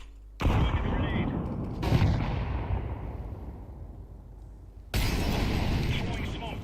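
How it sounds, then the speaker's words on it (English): A grenade detonates in the Counter-Strike video game, with several heavy, booming blasts in quick succession that each trail off into a long rumble. A callout voice may be heard among the noise. "Throwing a grenade."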